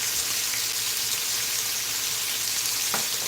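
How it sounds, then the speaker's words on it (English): Bacon frying in a pan gives off a dense, steady sizzle with crackling and popping throughout, loud and close, with no voices. "I like that sizzling sound of bacon."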